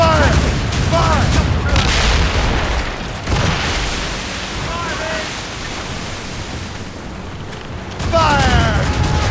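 Ship cannons fire in broadside volleys during a naval battle in the video game Assassin's Creed Rogue: loud booming bursts over rushing sea and wind, with crew voices shouting in between.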